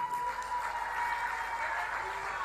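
An audience at a Kenyan political speech breaks into applause for the foreign affairs minister being introduced, a sustained, fairly close wash of many hands clapping at once, with a faint tone running underneath.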